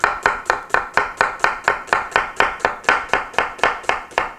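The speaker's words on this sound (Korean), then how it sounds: "양파는 반으로 자르시고요" An onion halved lengthwise is sliced with a kitchen knife on a cutting board, giving a steady run of about twenty crisp, evenly spaced chopping thuds, close and clear.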